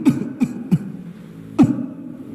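A man imitates a cough with his voice, giving three short throaty bursts close together, a pause, then a fourth louder one, all near and clear with no other sound around them.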